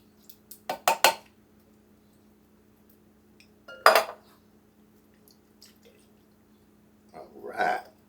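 Canned sliced mushrooms pour into dishes in short bursts of clinking and wet splatter, separated by long quiet gaps and a faint steady hum.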